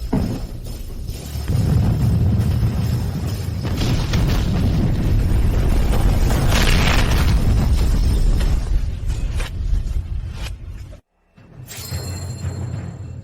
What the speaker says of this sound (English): Didn't the explosion just happen?